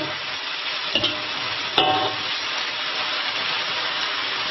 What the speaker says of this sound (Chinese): 先翻炒一下